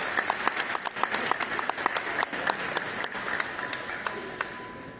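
An audience at an official ceremony honoring regional traditional art and crafts winners breaks into steady applause, a dense patter of many hands clapping with a few sharper individual claps standing out, moderately loud throughout.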